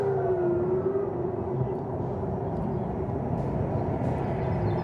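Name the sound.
civil defense siren warning of drone or missile attack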